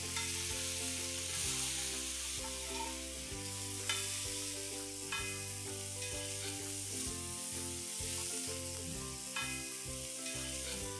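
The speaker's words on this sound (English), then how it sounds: "we are going to saute this till the tomatoes are cooked nice" Roughly chopped tomatoes sauté in a pan for a dhaba-style tawa chicken fry, with a steady sizzle and occasional stirring throughout, all under loud background music with no talk.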